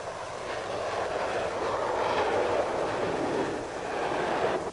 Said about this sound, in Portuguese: As turbinas são colocadas em potência total e em segundos nós estamos correndo pela pista.